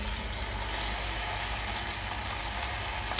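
Food cooking slowly in a clay pot set over just embers with another pot placed on top, giving a constant, dense low sizzle without pause and no speech.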